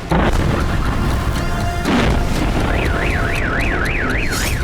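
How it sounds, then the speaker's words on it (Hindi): Explosions from drone attacks in Belgorod: two sharp, loud blasts, one at the start and another about two seconds later. A car alarm wails in a rising-and-falling pattern afterward, with no voices. "बेलगोरोद में कई धमाके हुए"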